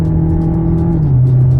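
A 2026 Opel Grandland PHEV plug-in hybrid driving with paddle-shift gear changes, heard as a steady, loud engine drone that drops in pitch near the middle as a shift happens.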